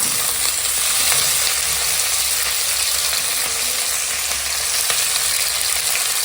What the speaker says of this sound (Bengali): পেঁয়াজ লঙ্কাটা হালকা ভাজা হয়ে গেছে ফোড়নের সঙ্গে